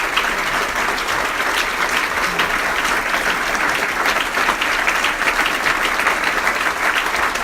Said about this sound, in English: I know you're applauding for the video.